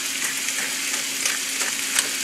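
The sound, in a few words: diced onion and celery sautéing with salt and pepper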